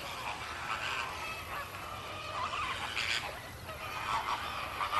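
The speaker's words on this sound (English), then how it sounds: "That means flamingos talk non-stop." Flamingos call continuously from a flock, a dense overlapping chorus of honking squawks with no talk.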